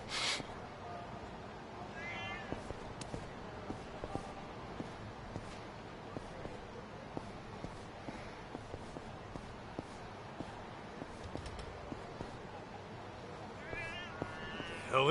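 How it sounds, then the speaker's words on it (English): A cat meows a few times at the edges of the scene in the video game Kaito Files DLC, faint and brief over a steady game ambience with footsteps and a talking voice. "There's a cat somewhere."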